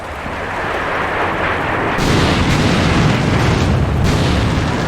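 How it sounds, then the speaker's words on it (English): Heavy artillery in a World War strategy video game, a loud dense wall of booming rumble that swells louder after two seconds and keeps rolling without any clear gaps. "It's just very loud with all the artillery."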